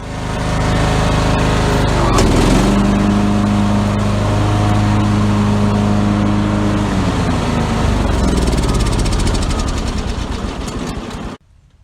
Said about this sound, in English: So the only way I can keep this thing running is to remove the air filter and keep chugging along.